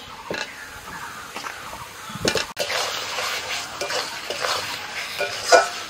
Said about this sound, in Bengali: মশলা কষানো হয়ে গেছে, ভাজা আলু দিয়ে দিচ্ছি।